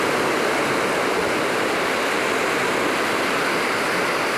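Sea tide rolling in at Dawlish Warren beach, a steady broadband wash of surf that stays close and loud throughout without any pause or voices.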